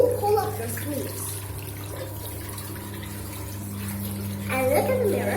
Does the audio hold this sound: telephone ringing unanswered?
no